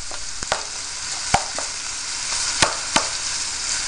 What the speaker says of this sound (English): So you can hear that sizzle that's characteristic of frying something in oil.